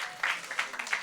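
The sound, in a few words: applause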